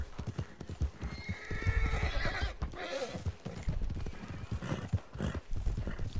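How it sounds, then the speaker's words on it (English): A horse in a video game neighs loudly while its hooves clop in a fast, steady rhythm close by, with a voice talking over it. "Oh, did your horse finally catch up?"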